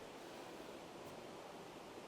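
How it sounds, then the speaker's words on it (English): Steady broadband rushing of flowing water, constant and even throughout, with no voices. "And can you hear the river?"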